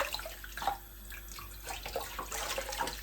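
Irish moss seaweed being rinsed and shaken in water to remove sand, with splashing, sloshing and dripping close by, steady and moderately loud without speech.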